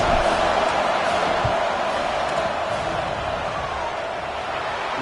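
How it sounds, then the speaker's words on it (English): Stadium crowd at an American football video game during a field goal attempt, a loud, steady roar of many voices with a faint slam early on. "This crowd trying to do its part to get inside the kicker's head."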